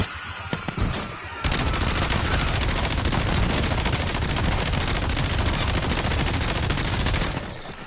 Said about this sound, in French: Mini tourelle.